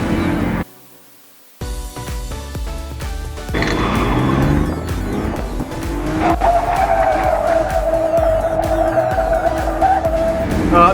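Turbocharged BMW E36 drifting, loud tire squeal and skidding alongside a straining engine, with a brief quieter gap near the start before the screeching resumes and holds steadily to the end.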